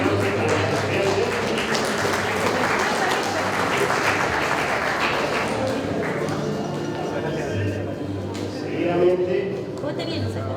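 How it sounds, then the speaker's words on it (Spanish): Sustained applause from a crowd at a graduation for motorcycle and vehicle mechanics students, a dense steady wash of clapping that holds for several seconds and tapers slightly near the end. "Fuerte los aplausos para los estudiantes."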